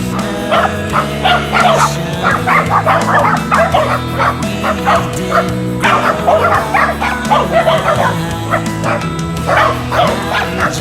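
Several dogs barking and yipping near a backyard pond, with busy overlapping barks, yips and whimpers running steadily and loudly throughout, with no talk.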